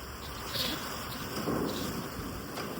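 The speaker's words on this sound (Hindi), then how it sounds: "बरसात आ रही है" Rain falling steadily outdoors as the sky darkens, with rumbling thunder rolling underneath a continuous hiss of rainfall, fairly loud and close.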